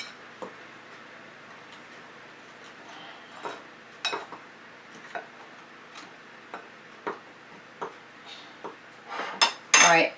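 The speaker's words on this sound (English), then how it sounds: "let's give that a stir" Spoon clinking and scraping around a bowl while waffle batter is stirred by hand, a string of light, regular ticks that grow louder and denser near the end, with no voices.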